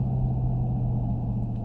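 2020 Dodge Challenger Hellcat Widebody engine while driving, a deep steady low rumble heard from inside the car at a constant cruising drone, with no voices.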